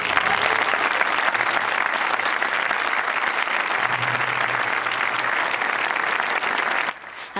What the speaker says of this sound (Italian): il pubblico interrompe la scena con un applauso che dura diversi minuti